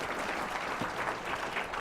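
An audience at a talk on innovation gives a steady round of applause for the speaker. The clapping is continuous, soft and somewhat distant.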